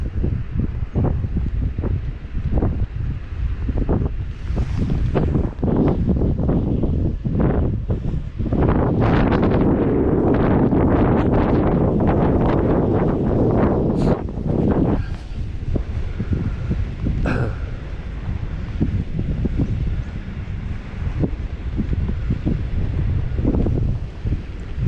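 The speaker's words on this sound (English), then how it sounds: "All on the way back, a bit windy." Strong wind buffeting the microphone on a coastal walk out to Worms Head on the Gower coast, gusting loud and continuous for about twenty-five seconds with a few brief rustles, and no talking.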